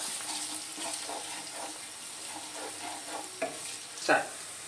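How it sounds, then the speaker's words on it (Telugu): Ginger garlic paste sizzles softly in a pan for a chintachiguru chicken dish, a constant faint frying hiss broken by light stirring scrapes and one louder clank near the end, with no voices. "ఇప్పుడు ఇది కూడా పచ్చి వాసన పోయేదాకా కొంచెం కాగాల, మంచిగా వేగాల."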